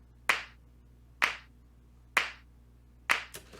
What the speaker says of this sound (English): So I got a lot of these natural clap sounds.